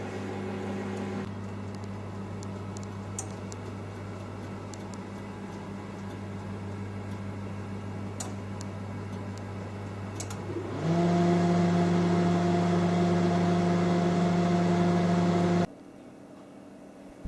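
Bread machine baking sourdough bread, a steady mechanical hum and whir that shifts to a louder, higher-pitched tone partway through before dropping off near the end.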